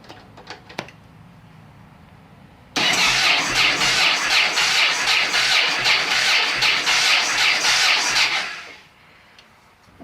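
Yamaha XV1600 Road Star motorcycle engine starting on choke after a carburetor install: a few clicks, then the engine catches abruptly and runs loud and rough for about six seconds before being cut, with no talk.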